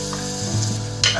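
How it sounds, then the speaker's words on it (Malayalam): Sliced onions dropped into hot coconut oil for a Kerala-style mutton stew hiss and crackle in a brief, close burst, rising sharply near the end. "നമ്മുടെ വെളിച്ചെണ്ണ ചൂടായി വരുന്നുണ്ട്. അതിനകത്തേക്ക് നമ്മൾ കട്ട് ചെയ്ത് വെച്ച സവോള,"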